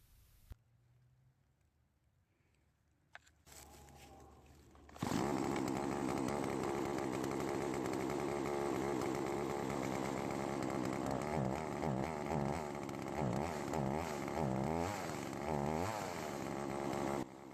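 Poulan chainsaw starting up after a carburetor low-speed screw adjustment, then a loud, close two-stroke engine idling steadily for over ten seconds with a slightly uneven, burbling rhythm.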